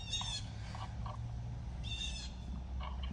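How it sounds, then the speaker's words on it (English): Birds call in short, high chirping bursts, a few scattered outbursts spaced apart over a steady low outdoor rumble, moderately distant. "Bro, you hear them birds?"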